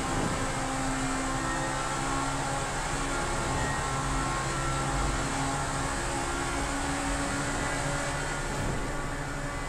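Pegassi Infernus supercar in GTA V, engine droning steadily inside a tunnel, a constant loud roar with tonal hum and no speech.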